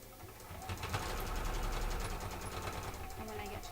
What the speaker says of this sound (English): I'm going to do a back stitch at the beginning.